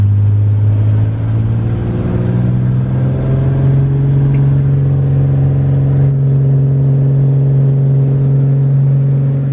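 A Beechcraft Bonanza F33A propeller plane's engine drones at takeoff power, loud and close in the cabin, a steady heavy hum with even low harmonics holding constant throughout without pause or talk.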